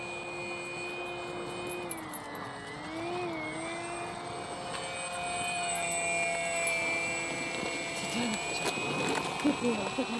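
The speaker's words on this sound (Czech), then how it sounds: "se dá opravdu letět krokem na čtvrtinový výkon a letadlo je krásně stabilizované těma wingletama" A Modster Easy Trainer 1280 RC model airplane flies at about quarter throttle, its electric motor giving a steady, thin whine that rises and dips slightly as it passes at moderate distance.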